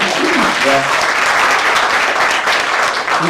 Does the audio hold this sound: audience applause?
yes